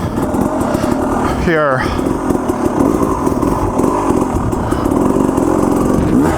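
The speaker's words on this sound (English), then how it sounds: "So listen to the throttle and what I'm doing" An enduro motorcycle engine runs steadily throughout, with a sharp throttle double blip rising in pitch near the middle, all under continuous close engine drone and a brief spoken word.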